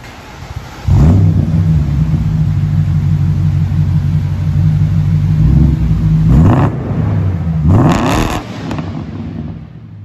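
A BMW E60 with a custom-made exhaust starts up, then settles into a loud, rumbling idle, broken by two sharp revs near the end. The engine sound is close and heard alone.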